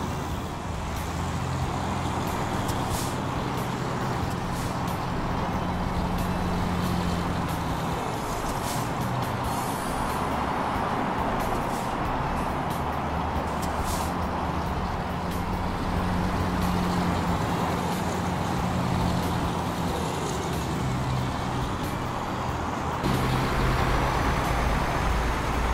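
Heavy truck engine droning steadily in Euro Truck Simulator 2 as the rig pulls away, continuous road rumble with a brief hiss near the end and no talk.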